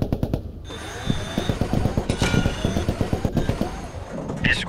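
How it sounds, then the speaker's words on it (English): MG42 machine gun fire in the WWII game Post Scriptum, a long fast rattling stream of shots at moderate distance, steady and rhythmic throughout. "We just got hit by an MG42"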